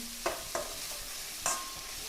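Capsicum and onion stir-fry quietly in a pan with a few sharp scraping strokes of a spatula, a soft steady hiss underneath.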